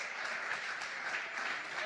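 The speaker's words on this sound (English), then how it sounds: "I'm going to clap for her" Audience applause at a digital educators' conference, a dense, even wash of many hands clapping, heard from a distance and fairly soft, with no single claps standing out.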